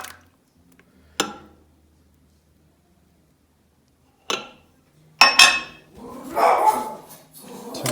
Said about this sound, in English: Ignore the barking dog.